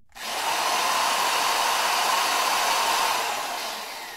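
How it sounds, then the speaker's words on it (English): A very loud, steady drill whine in a playground video game, used to fix a broken swing, starting abruptly and holding a constant roaring tone for about four seconds before easing slightly. "That's the loudest drill I've ever heard."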